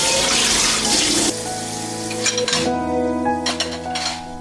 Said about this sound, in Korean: 그런데 왜 설거지 하시는 거예요?